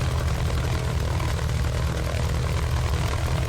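A Mitsubishi A6M5 Zero's propeller engine idling at about 900 rpm with the throttle barely cracked, a continuous, close, throbbing low rumble that stays even throughout.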